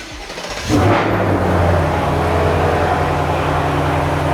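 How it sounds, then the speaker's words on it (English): A 2024 Ford Mustang GT fitted with a Whipple supercharger cranks briefly and fires up, then settles into a loud, deep, steady idle with a throbbing rumble close by. "First start up on Mike's car"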